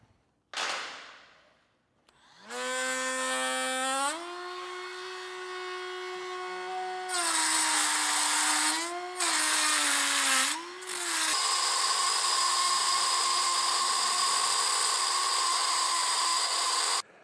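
Power tool cutting a slot in a Curt custom base plate bracket for a 2023 Jeep Gladiator, a loud high whine that spins up, holds, dips and resumes through several runs, alone and close.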